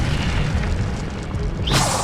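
Incendio fire spell cast in Hogwarts Legacy, a dull boom under a roaring rush of flame that ends in a bright whooshing burst.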